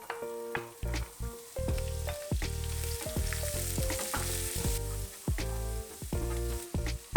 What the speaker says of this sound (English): I took my pan, added a bit of oil and my onion, sauteed it for a while.